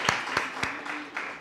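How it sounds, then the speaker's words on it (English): A small Women's Day audience claps for itself: a brief burst of a few distinct, fairly close hand claps, with a faint voice in the background. "Let's clap for ourselves."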